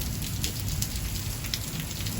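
Heavy rain pours down beside a front porch with a brick wall, a dense, constant hiss with scattered louder drips and splashes, close and steady throughout.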